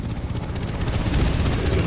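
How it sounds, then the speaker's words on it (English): Helicopters flying overhead above the pyramids in Egypt, a steady, rumbling rotor drone that grows slightly louder and fuller as they pass, with no talk. "Zahid, do you hear some helicopters?"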